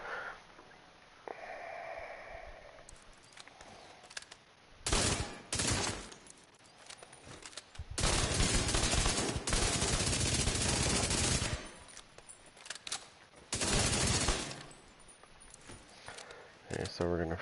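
Gunfire in The Division 2 on PS5 comes in loud automatic bursts and single shots, spaced between quieter stretches, with a player talking over the action.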